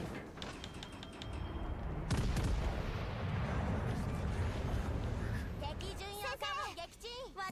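Naval guns in World of Warships: Legends fire a heavy, booming salvo that rolls on as a sustained rumble, with a voice talking as the roar fades near the end.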